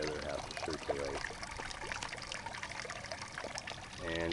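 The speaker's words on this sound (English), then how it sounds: "So it's dumping like half of the water and then making a waterfall with the other half to circulate" A pond pump's outflow splits, half dumping back into the pond and half feeding a small waterfall, giving a steady trickling, splashing pour close by with faint voices in the background.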